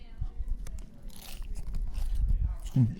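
A walking taco at a Munzee Mecca 2024 event gets bitten into, giving close crunching and chewing sounds, with a final louder crunch near the end, while people talk nearby.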